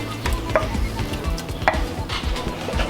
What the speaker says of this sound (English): I'm gonna stir this up